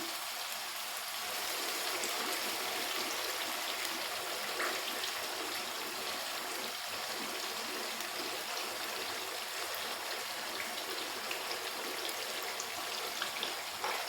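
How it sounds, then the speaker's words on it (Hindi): Cream pours into boneless white chicken karahi in a pan, making a faint, continuous liquid rush with light bubbling that holds steady for the whole stretch, with no voices. "अब इसमें मैं डाल दूंगी क्रीम।"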